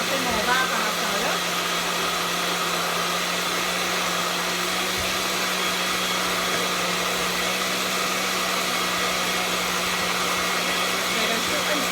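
A countertop blender runs steadily, blending a ginseng smoothie made with milk, with a continuous loud whirring motor hum throughout and no pauses.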